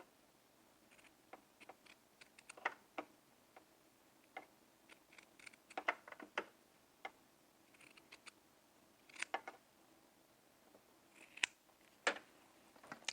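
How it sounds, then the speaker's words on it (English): Scissors cutting off the seam allowance of a sewn jumpsuit's fabric, a quiet room with irregular bursts of sharp snips and clicks, some in quick clusters, separated by near-silence, no talking. "I'm going to cut off about half of that seam allowance"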